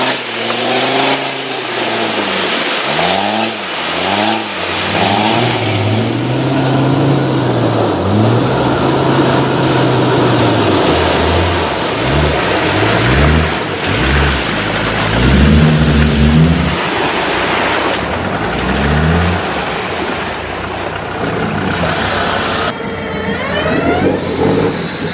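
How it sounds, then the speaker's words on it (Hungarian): Small cartoon car stuck in a swamp, its engine revving over and over in rising and falling bursts, loud and close, alongside splashy, music-like sounds with no talking. "a kis autó beragadt a mocsárba"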